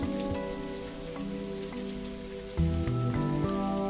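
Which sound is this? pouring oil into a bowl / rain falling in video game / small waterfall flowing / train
rain falling in video game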